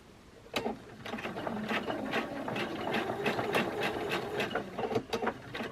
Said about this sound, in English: So I've got my straight stitch set on my machine just to do this beginning part